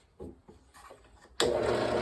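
An electric drill bores holes in wood during bench work on a layout lift-gate. A few light taps and scrapes give way to a sudden loud, steady whirring grind up close.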